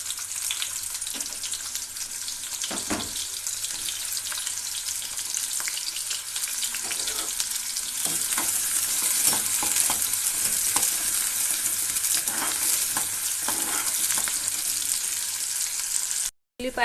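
Cut onions dropped into hot oil crackle and sizzle in a steady, close frying hiss that holds for several seconds, with occasional stirring scrapes and no voices.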